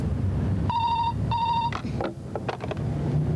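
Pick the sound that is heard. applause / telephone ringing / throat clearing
telephone ringing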